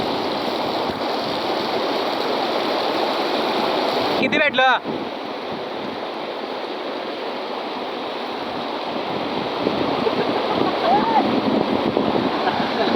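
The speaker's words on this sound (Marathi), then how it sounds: "यो बघा जरा एन्जॉय घेतो इथं वॉटरफॉल." A waterfall and river rush steadily during heavy rain at a riverside fishing spot, a broad continuous wash of water with some wind, interrupted briefly by a man's short question near the middle.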